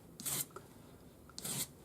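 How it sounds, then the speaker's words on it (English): Two short bursts of dry, gritty rasping as 400-grade wet-or-dry paper on a sanding stick is rubbed along a metal ring, close by and separated by a brief pause. "400 grade wet or dry paper on a sanding stick"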